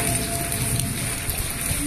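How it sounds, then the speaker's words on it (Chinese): Heavy rain pours steadily outside an old temple during a thunderstorm, a dense, continuous hiss of drops on surfaces that stays loud and even throughout with no voices. "今日真係太大雨啦"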